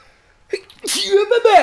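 A single sharp sneeze from a man playing Firewatch, close and loud, preceded by a quick inhale and followed by a brief trailing vocal sound.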